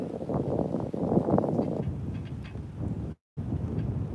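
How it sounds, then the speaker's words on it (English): Wind buffets an outdoor microphone in a low, steady rumble with gusty swells, broken by one brief dropout. "the wind's blowing"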